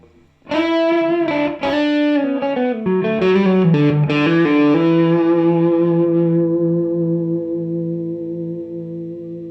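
An Epiphone SG400 electric guitar played through distortion rings out with a few loud picked chords and notes, then one held note sustaining and slowly fading, alone with no voices.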